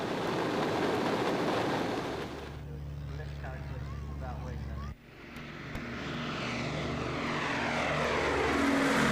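Propeller aircraft, a bomber escorted by two Mustangs at a British airshow, roar past as a loud droning engine sound that dips briefly and then builds again, with a voice talking over it.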